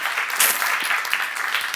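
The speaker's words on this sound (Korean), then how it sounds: "박수를 한번 주세요" A church seminar audience gives a short round of applause, thick continuous clapping from many people that fills the room from start to finish.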